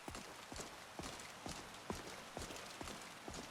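Horse hooves clip-clop at a steady walking pace in the video game Skyrim, with about nine evenly spaced sharp strikes over a constant background hum and no voices.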